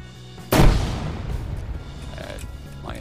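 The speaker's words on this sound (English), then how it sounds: "This time I'm gonna throw a grenade in here." Grenade thrown into a building detonates in a shooter game, a single loud close blast followed by a rumbling, fading tail and faint clatter afterward.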